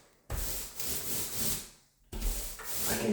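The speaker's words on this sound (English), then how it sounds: "I want to really push that primer into the fresh drywall." A paint roller pressed firmly across fresh drywall spreads primer in a closet, making two long rubbing, swishing strokes split by a short pause, close and fairly quiet.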